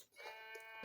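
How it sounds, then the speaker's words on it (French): Sheep bleating in the video game From the Fog, a single short nasal bleat heard faintly and alone. "c'est les vrais moutons"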